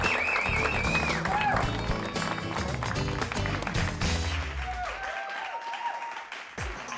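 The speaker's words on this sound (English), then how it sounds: "Give him a big round of applause." Crowd applause and cheering greet the new leader at a 2010 FLW Tour bass fishing tournament weigh-in on Lake Ouachita. The sound is loud and steady over background music, then thins out toward the end.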